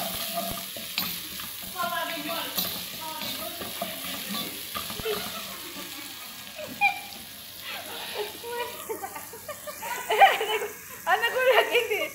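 Onion fries in about three tablespoons of cooking oil, a continuous crackling sizzle with occasional stirring scrapes, while a person talks over much of it.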